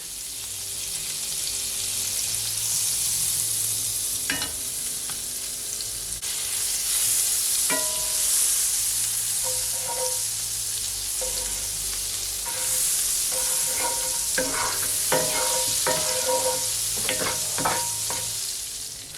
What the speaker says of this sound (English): to the same skillet, I'm just gonna add my remaining butter